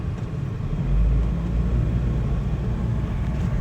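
A 2000 Suzuki Carry DB52T mini truck with a 660cc EFI engine, automatic transmission and 4WD drives along, giving a steady low engine rumble and road drone heard from inside, continuous and fairly loud, with no talking.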